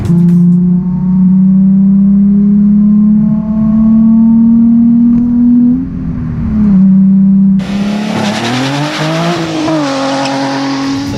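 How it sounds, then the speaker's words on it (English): A 2008 Nissan 350Z HR accelerating hard, its engine note loud and close as it climbs steadily through the revs, then briefly drops and surges again with a harsher, rising roar. "The HR pushes the Z to 60 miles an hour in just over 5 seconds"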